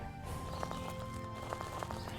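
Horse hooves clip-clopping in the farming game Animallica, a faint, uneven series of hoof taps on a steady background hum, with no one talking.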